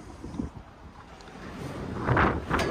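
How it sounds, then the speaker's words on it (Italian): Strong wind gusts across an open square in central Batumi, Georgia, rumbling and buffeting close against the microphone and swelling louder toward the end, with no voices. "c'è tantissimo vento"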